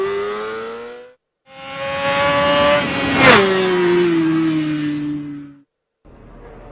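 A racing motorcycle accelerates hard out of a hairpin on a track, its engine note rising in steady revving runs with a brief gear-change dip, loud and close, before cutting off into a short gap.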